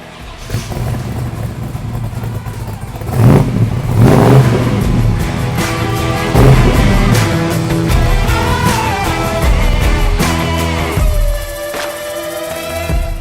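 A custom 1969 Camaro Z/409 with a 409 engine cranks and fires, then revs loudly with several rising throttle blips before settling toward a rough idle near the end.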